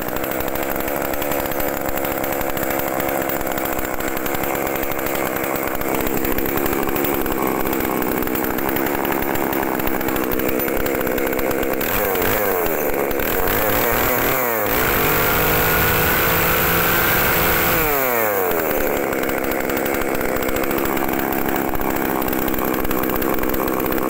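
A used Makita chainsaw engine runs continuously, loud and close, revving with a few rising and falling throttle sweeps before settling back to a steady buzzing roar, with no talking over it.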